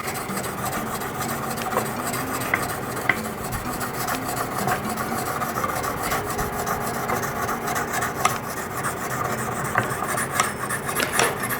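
A knife blade rasps back and forth on an oiled Lansky sharpening stone, a steady, close, continuous rubbing with long even strokes and occasional slight clicks.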